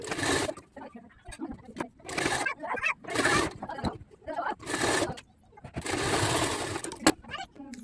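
A sewing machine runs in quick bursts while stitching around the neckline of a blouse, each run loud and close, with short pauses between and brief talk mixed in.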